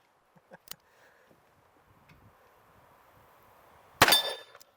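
A single sharp, loud report from a 1917 .45 revolver cracks out late in an otherwise quiet outdoor stretch, preceded by a few faint clicks and light handling noises.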